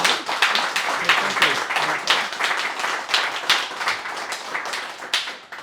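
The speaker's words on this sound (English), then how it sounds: "I think we should give this man the traditional round of applause." A round of applause from a small networking-session audience, many hands clapping close by in a lively, slightly uneven patter that gradually fades toward the end.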